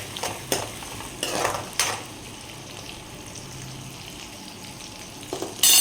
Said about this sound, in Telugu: ఇలాగైతే కలిపేసుకోవాలి.